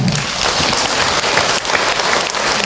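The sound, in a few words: audience applause for the speaker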